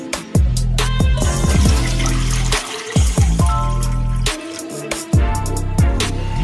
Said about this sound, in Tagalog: Una po, maglalagay po tayo ng tatlong basong tubig.